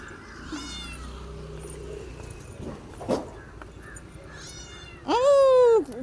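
A cat meowing near a fish vendor at a market, a few short faint mews followed by one loud, drawn-out meow close by, over quiet background noise.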